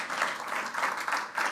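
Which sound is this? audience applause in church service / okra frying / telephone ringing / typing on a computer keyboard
audience applause in church service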